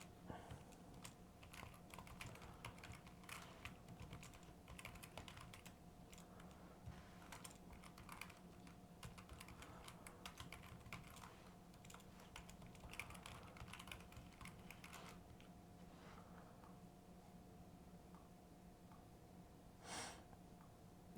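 Quiet, steady typing on a computer keyboard as an equation is written out, a continuous patter of soft key clicks heard close and alone for most of the stretch, thinning out near the end, with occasional breathing.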